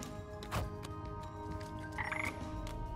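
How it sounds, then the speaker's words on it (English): A frog croaks in the video game Wytchwood, a few short, close croaks over quiet game ambience. "Come back here, frog."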